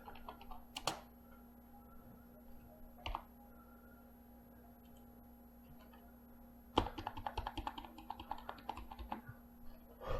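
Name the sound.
computer keyboard keys pressed, page up and page down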